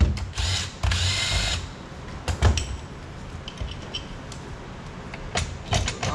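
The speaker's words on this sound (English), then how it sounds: "I'm gonna go ahead and pull this valve body while Matt's working on that" Power tool driving out valve body bolts on a stock automatic transmission in a workshop, several short close whirring bursts separated by pauses, with clanks of parts and tools between them.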